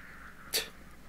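One short, sharp sneeze bursts out close to the mic over low background hum while someone plays Dark Souls 3.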